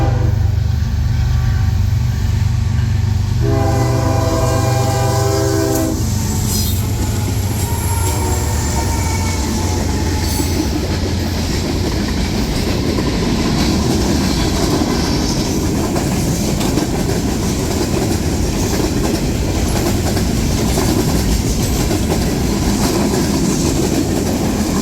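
Norfolk Southern freight train 31T, running from Binghamton toward Montreal with many empty boxcars, sounds its horn in a few loud sustained blasts before the cars roll past in a steady, loud rumble with wheel clatter and squeal.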